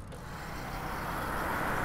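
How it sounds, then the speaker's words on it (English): Road traffic heard from a bicycle on the move: a steady, broadband rumble and hiss of passing cars and trucks that slowly grows louder over the couple of seconds, with no talking. "you hear the traffic okay?"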